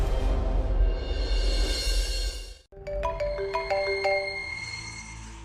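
A mobile phone rings with an incoming call, a bright chiming ringtone melody of repeated tones that starts suddenly after a moment of noisy background and then plays on clearly, close by.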